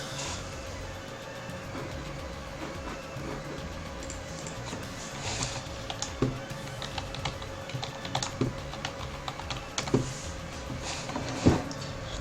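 A computer keyboard clatters with irregular typing clicks, some sharper keystrokes standing out over a steady background hum and no voices.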